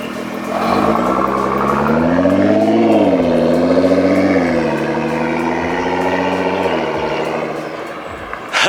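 A Nissan GT-R fitted with an Armytrix exhaust revs loudly up close, its engine note climbing and falling in a sustained rev with a faint turbo spool whistle, settling back to a steadier drone near the end.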